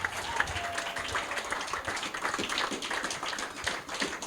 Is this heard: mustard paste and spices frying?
no